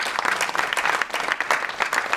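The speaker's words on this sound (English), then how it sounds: "Big round of applause for the staff involved." Audience applause for school staff at a Chinese New Year event, steady dense clapping from a crowd sustained throughout, fairly near and even in loudness with no voices over it.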